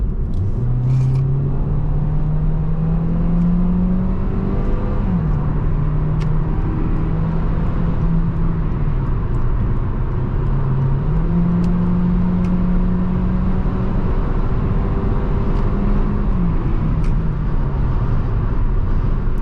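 A 2012 Hyundai ix35 2.0 automatic SUV engine drones loudly and steadily, its pitch climbing and dropping through several gear changes as it accelerates, with constant road rumble.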